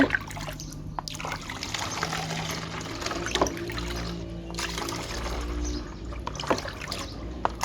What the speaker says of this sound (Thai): จากนั้นก็กรอกใส่ขวดเหมือนเดิมได้เลยค่ะ